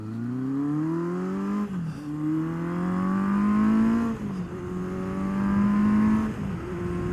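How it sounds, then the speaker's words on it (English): A 1977 Kawasaki KZ650C carbureted motorcycle engine runs close by and loud, its pitch rising steadily then dipping in three repeated revs, with no talk. "Being an old bike with carburetors and everything, when you start it up, you got to choke it."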